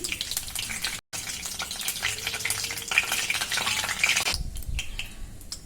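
Whole garam masala spices and bay leaf crackle and sizzle steadily in hot oil for a jackfruit curry, a continuous bright frying hiss with a brief break partway through, close and fairly loud with no talking.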